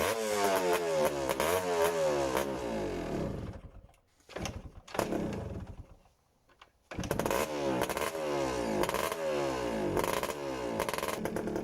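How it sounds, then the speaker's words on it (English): A 1979 Yamaha RS 125 DX two-stroke motorcycle engine starting up, a near, loud buzzing rev that cuts out briefly with a couple of sputters, then catches again and idles with a raspy ringing note. "decided that I better start the bike before I lose all my precious fuel."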